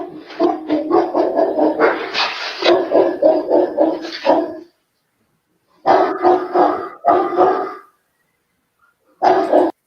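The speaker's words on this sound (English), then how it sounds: "These are his dogs barking" A recording of a man's dogs plays back, several dogs barking in rapid bursts, loud and close, with short pauses between volleys and no talk.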